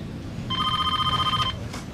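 A telephone rings once in a short electronic trill of rapid repeated pulses, moderately loud over quiet room tone, followed by a faint brief noise.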